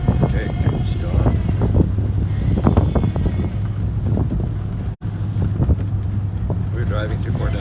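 Strong storm wind buffets the microphone in Fort Nelson, British Columbia, a loud continuous rumbling roar with gusting bursts over a running vehicle, and someone speaks throughout.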